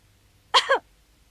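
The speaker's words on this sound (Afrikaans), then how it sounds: "Adelheid, hou dadelik op met nies." A cartoon character named Adelheid (Heidi) gives a single short sneeze, loud and close, against a quiet background.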